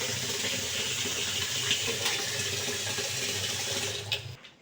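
Water runs and splashes steadily from a pot onto potted plants, a close continuous pouring rush that tapers off and stops just before the end.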